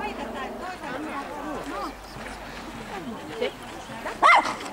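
Dogs bark and yip at a dog competition while an announcer speaks over a loudspeaker; a few barks rise above the talk, one louder sharp bark near the end.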